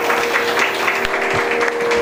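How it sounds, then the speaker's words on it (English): Steady applause from a concert audience after a veena performance, a dense wash of clapping that holds at an even level for the whole stretch with no voices. "bigger round of applause for"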